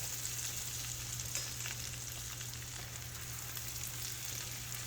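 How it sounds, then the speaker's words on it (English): Yellow squash frying with bacon and onion in a pan makes a continuous close sizzle and crackle as it is stirred, steady and moderately loud with no talk. "You don't really have to stir it like this."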